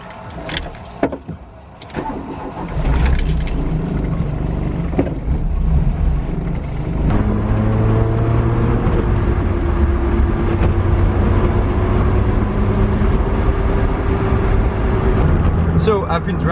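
A Volkswagen Golf Mk1 with upgraded brakes and cooling starts and pulls away for a test drive, its engine droning steadily with shifting tones as it accelerates, after a few clicks and knocks at the start.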